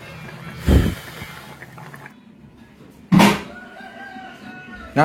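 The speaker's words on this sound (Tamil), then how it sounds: "உள்ள கோழி துள்ளுது." Chickens cluck and squawk in short bursts, a few loud calls spaced apart over a faint background.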